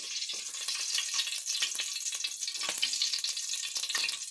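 Onion and curry leaves are tempered in hot oil for a fish curry. The oil crackles and sizzles in a continuous close spatter, with no voices.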